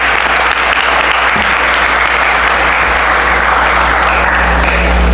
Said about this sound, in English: How about a round of applause again?